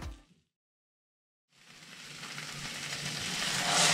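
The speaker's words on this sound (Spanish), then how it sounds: "Y sofreímos durante 1 minuto" Rice sautéing in a pan as the base for a seafood paella, a loud, steady hiss and sizzle that starts abruptly after a short silence and swells steadily louder, close and alone without talk.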